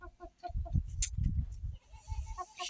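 A rooster and a small hen cluck in a backyard enclosure, short repeated clucks and low throaty murmurs in quick, uneven bursts, close and fairly clear.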